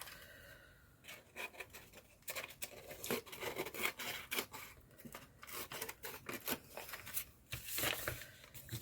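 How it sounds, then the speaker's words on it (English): Scissors snipping through paper for a junk journal, a steady run of quick, close, quiet cuts with rustling and rubbing between strokes, no voices. "I'm going to go with scissors."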